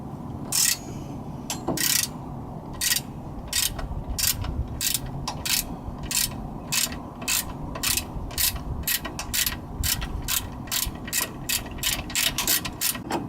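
A hand ratchet with a 1/2-inch socket loosens the shock nuts on the front suspension of a 1997–2004 two-wheel-drive Ford F150, giving a long, steady series of sharp, close clicks in a fairly regular rhythm.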